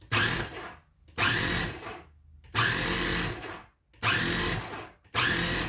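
A kitchen food processor pulses homemade pesto sauce in four loud, close bursts of whirring motor roughly a second long, each separated by a brief near-silent gap.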